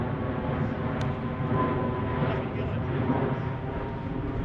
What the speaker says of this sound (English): That's a nice plane, Michael.